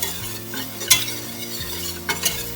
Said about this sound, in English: we have to melt the butter and get this all-purpose flour nicely cooked